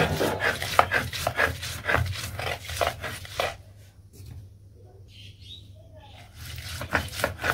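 Repeated rough rubbing strokes of a stone grinder working paste on a flat shil-pata slab, loud and rhythmic for several seconds, pausing briefly with faint bird chirps before the grinding resumes.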